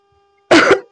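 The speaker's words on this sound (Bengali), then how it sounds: "তো ওই জন্য কাশি পেয়ে গেছিল" A woman with a fever coughs and clears her throat, a loud harsh burst after half a second of near silence, then another starting at the very end.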